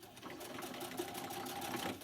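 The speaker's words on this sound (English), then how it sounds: "stick your elastic in about 1/4 inch. Stitch it, back stitch." Sewing machine back stitching elastic into a fabric face mask: a short, close, steady rattle of rapid needle strokes, fairly soft and uninterrupted, with nobody talking.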